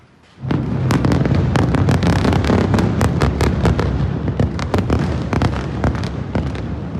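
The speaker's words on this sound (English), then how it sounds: "the explosions rang out." Rapid, repeated explosions from a bombardment on Beirut crack and boom in quick succession at sunset, loud and sharp, echoing over a steady rumbling background.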